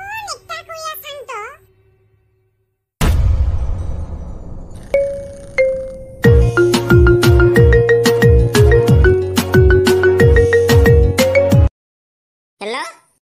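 A phone ringtone plays a bright repeating melody of chiming notes for several seconds, loud and close, between stretches of talk in a comedy sketch.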